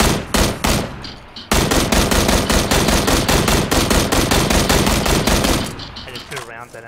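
Automatic gunfire in the video game PUBG, long rapid bursts of loud close shots in a steady rhythm, a short pause, then sustained firing that tails off as voices talk at the end.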